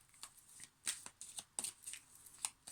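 Oracle cards are shuffled by hand for a card pull, giving a run of soft, close riffling snaps and slaps in an uneven rhythm, with no talk over them.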